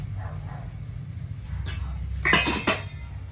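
Lid going onto a pan of frying chicken with a quick metallic clatter and a couple of clinks, close, after a low steady background hum.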